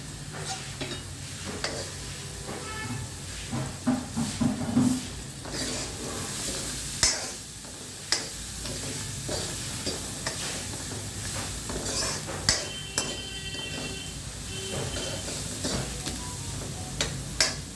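Taro root curry sizzling and frying in a pan while a spoon stirs it with repeated scraping strokes, close and steady for the whole stretch, with no talking.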